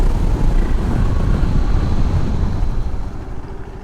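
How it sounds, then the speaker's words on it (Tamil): A KTM 390 Adventure motorcycle brakes hard from 120 km/h. Loud, continuous wind roar and engine rumble fill the clip and ease off slightly toward the end. "120லேருந்து இப்போ 0க்கு பிரேக் அடிக்கிறோம்"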